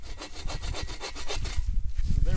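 A hand saw cuts through a log outdoors at a camp, making rapid rhythmic rasping strokes, close and fairly loud, that slow and roughen near the end.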